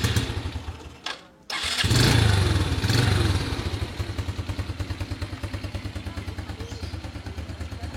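A restored 2005 Yamaha Vega R motorcycle fires up on its electric starter after a brief whir and thump, then settles into a close, steady, rapidly pulsing idle with light mechanical clatter.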